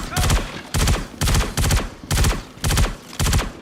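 Rapid bursts of automatic gunfire from a video game firefight, six loud clustered volleys with short gaps between them, close and dominant.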